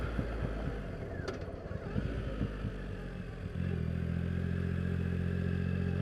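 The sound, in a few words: Triumph Rocket III Roadster motorcycle riding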